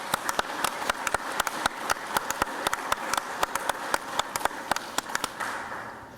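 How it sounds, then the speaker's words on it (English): A few people clap for a new college athletic director, sparse, distinct claps spread steadily across the moment at moderate distance, with no voices. "How about a round of applause?"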